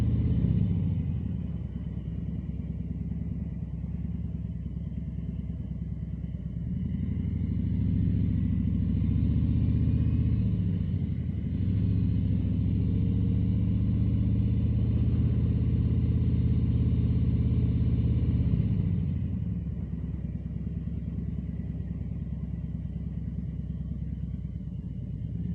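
A Harley-Davidson motorcycle rolls into a shopping center at low speed, its deep rumbling engine idling and throttling gently, swelling briefly as it maneuvers and then easing back down.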